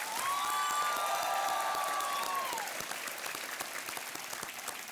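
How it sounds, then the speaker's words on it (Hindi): Studio audience on a Hindi TV quiz show applauds guest Varun Dhawan, a dense, steady roar of clapping that fills the space and slowly thins out. "इनके लिए जोरदार तालियां बजें।"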